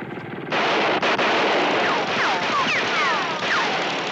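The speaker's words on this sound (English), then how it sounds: "I shall riddle your tires with gunshots." A sudden burst of rapid, continuous cartoon gunfire aimed at car tires in a Pink Panther Inspector cartoon, loud and sustained, with whistling ricochet-like sweeps over the top.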